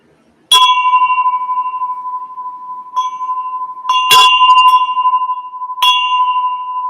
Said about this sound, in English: Boy, that bell sounds great.